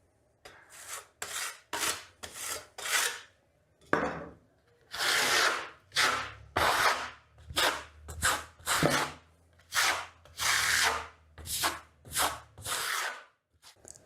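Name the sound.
trowel burnishing Vasari marmorino plaster on a wall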